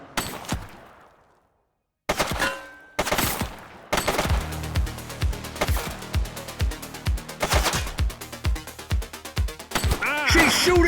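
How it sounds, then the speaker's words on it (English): Bursts of rapid automatic gunfire and single shots in The Precinct, a police video game, loud and close, firing in clustered volleys with short silent gaps between them. "She's shooting!"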